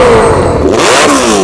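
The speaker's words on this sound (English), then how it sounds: "let's have a listen to your bike" A tuned Suzuki Hayabusa motorcycle revs loud and close, its engine note swooping up and down in quick, screaming bursts that fill the whole moment with no pause.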